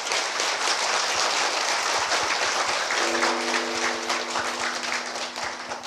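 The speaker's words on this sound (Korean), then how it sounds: "여러분 자신들을 위해서 박수 한번 치십시오." An audience at a Saturday Buddhist dharma service applauds in a continuous crackle of clapping that tapers slightly toward the end, while a steady tone rises underneath in the last few seconds.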